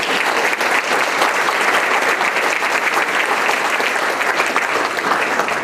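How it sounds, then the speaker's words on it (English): Loud, dense audience applause at a health equity event, many hands clapping steadily and evenly throughout without a break. "can we give a round of applause to our high school students that are doing the filming here?"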